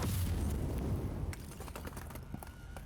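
An explosion in the video game Warhammer 40k Inquisitor - Martyr: a loud, dense blast that rumbles for over a second and then breaks into scattered crackles and small pops as it fades.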